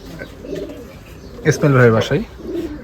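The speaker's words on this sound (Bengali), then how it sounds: "তো এনার কাছে কিছু কবুতর রয়েছে" A single Giribaz pigeon gives a throaty, rolling coo up close amid quiet background murmur, the call swelling briefly and fading.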